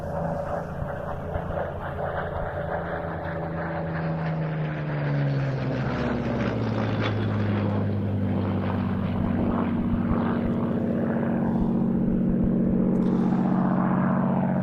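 Supermarine Spitfire in American colours flying at an air show at Duxford, its piston engine droning steadily and loudly throughout, with a pitch shift as the fighter passes overhead.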